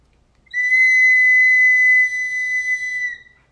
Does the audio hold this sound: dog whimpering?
no